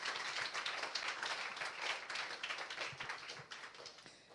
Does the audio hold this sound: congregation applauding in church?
yes